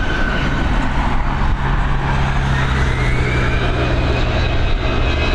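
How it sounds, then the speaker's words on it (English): Aer Lingus Airbus A320 departing runway 28L at Dublin Airport, a steady, loud, broad jet roar holding throughout with a faint rising whine, no voices. "Here we go, this A320 now heading over to London Gatwick."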